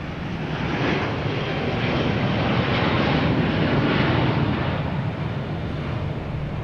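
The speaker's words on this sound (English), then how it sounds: "here's Delta, Flight 58, heading to London Heathrow at A330-900" Delta flight 58, an Airbus A330-900 bound for London Heathrow, takes off from Boston Logan with a loud, continuous jet engine roar and broad rushing noise, nearby and sustained throughout.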